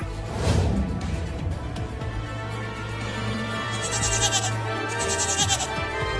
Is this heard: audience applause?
no